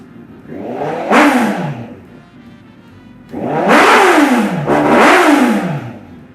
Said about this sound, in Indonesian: itu tadi gue udah menjalankan kok tugasnya menggeber motor ini